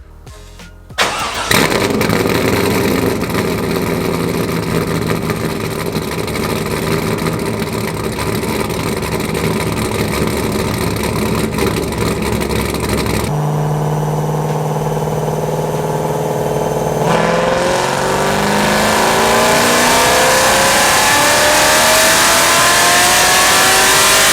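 A C5 Corvette engine starts with a sharp burst, then idles loudly and steadily before the revs climb and rise in pitch toward the end, close up.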